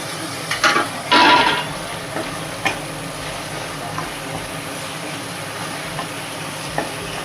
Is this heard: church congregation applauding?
no